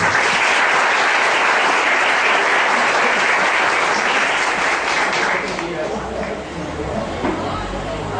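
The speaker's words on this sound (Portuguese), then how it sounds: "vamos receber com a salva de palmas" Crowd applause at a library inauguration welcomes the president of the neighbourhood residents' association; dense, steady clapping fills the room, thinning slightly toward the end with some murmur underneath.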